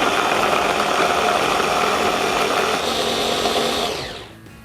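An electric blender or grinder whirs loudly and steadily while blending a lemon juice and olive oil marinade, then winds down and stops near the end.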